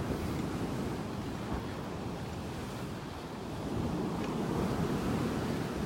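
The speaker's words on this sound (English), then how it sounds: "They're pretty powerful, these waves." Powerful ocean waves crash continuously onto a beach during a tropical depression, a loud, steady roar of surf with strong wind buffeting the microphone throughout.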